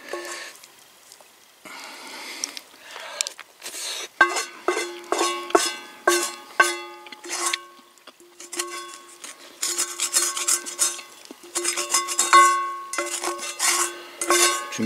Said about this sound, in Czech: Musím to vyškrabat řádně, aby to nepřischlo.